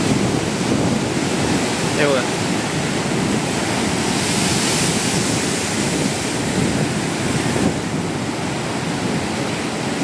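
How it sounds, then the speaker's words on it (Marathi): Strong sea waves crash with force against the shore at Ganpatipule, making a dense, steady roar of surf that fills the whole stretch. A voice speaks briefly beneath the noise. "बघा पाण्याची ताकद बघा किती आहे किती प्रेशरने हे पाणी आपटत आहे"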